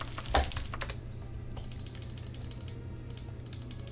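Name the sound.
computer mouse clicking during video game play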